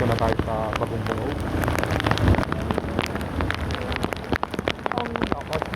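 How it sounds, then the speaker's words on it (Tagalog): Heavy rain falls during flooding in north Caloocan, a dense, steady patter drumming hard on nearby surfaces with wind gusts and occasional sharp drops, loud and close throughout. "Ang lakas ng ulan."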